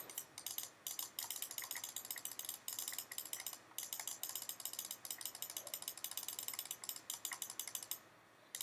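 A mouse button clicks over and over during a clicks-per-second test, a rapid, fairly even stream of crisp clicks up close with brief gaps and no talking.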